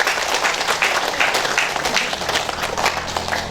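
Steady applause from a crowd at the inauguration of the KSP Kopdit Suka Damai cooperative branch in Malaka, dense clapping filling the room with faint murmuring beneath.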